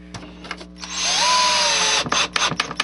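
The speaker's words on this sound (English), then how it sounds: "I'm just going to put some drywall screws in." A cordless power drill whirs briefly, then runs steadily as it drives 1¼-inch drywall screws through a model railroad structure while the glue sets, ending in a few short bursts and clicks.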